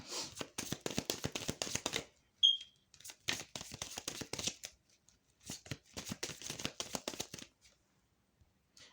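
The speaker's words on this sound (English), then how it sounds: "I'm shuffling the Eye Candy Oracle here" Eye Candy Oracle cards being shuffled by hand, heard as three bursts of quick, crisp riffling with short silent pauses between them, close and clear with no talking.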